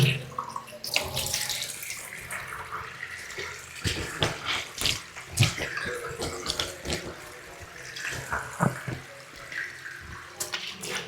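A tap runs at low flow into a sink while someone washes their face in the Islamic way, as for Hajj or Umrah. The water runs and splashes continuously, with irregular patters, close and fairly quiet.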